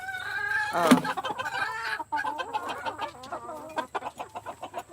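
Chickens clucking and calling at a backyard coop, with one louder squawk near the start followed by a busy run of overlapping clucks close by.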